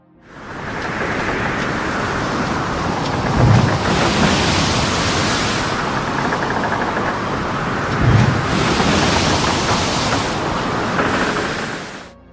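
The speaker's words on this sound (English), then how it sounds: "it was fascinating to watch the swells breaking against the bow" Ocean swells break against a ship's bow on an Arctic voyage through the Northwest Passage, a steady loud roar of rushing water and wind with two heavier thumping surges about four seconds apart, no voices.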